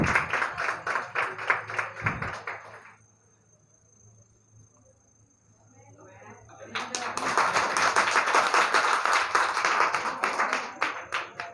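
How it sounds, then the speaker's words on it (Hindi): Students in a classroom break into loud, sustained clapping for the girls, a first burst of applause fading to a lull before a second, fuller round of clapping swells and continues to the end. "खड़े होकर ताली बजाओ यार अपने लिए"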